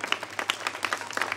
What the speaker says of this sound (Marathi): टाळ्यांचा आवाज.